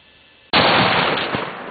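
A single loud rifle gunshot fired at a coyote during an evening hunt, a sharp sudden blast close by that decays slowly over the following second.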